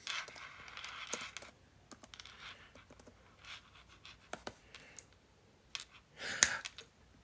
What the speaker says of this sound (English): if I can type it right.